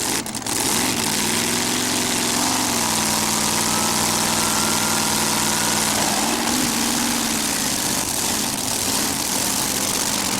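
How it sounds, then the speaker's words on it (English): A fuel-injected Allison aircraft engine on a modified pulling tractor drones loudly and continuously at a steady, heavy pitch that dips briefly and recovers, with no voices over it. "Look at the flames coming out of the headers on that fuel-injected Allison aircraft engine machine"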